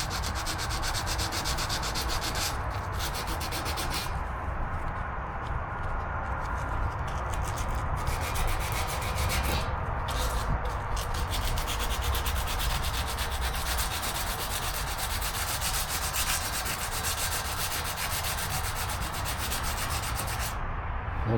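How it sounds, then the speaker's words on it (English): Continuous, even rasping of 80-grit sandpaper scrubbing a steel fuel tank on a Harley Ironhead Sportster XLCH, close and steady for about twenty seconds with only a few brief pauses, no talk. "This is 80 grit sandpaper."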